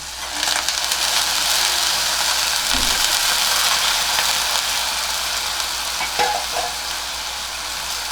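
Soaked peanuts, soaked dal and spinach sauté in a pan with a continuous, even sizzle and occasional stirring knocks, close and alone.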